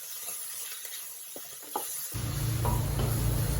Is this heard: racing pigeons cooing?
no